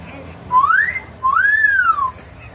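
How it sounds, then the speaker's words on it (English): Wilson horn on a 1927 Ford tall T hot rod sounds two sweeping tones, each rising then falling in pitch like a siren wail, the second longer. Both are clear, close and without talk. "the Wilson horn"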